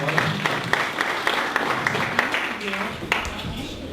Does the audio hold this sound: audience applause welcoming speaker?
yes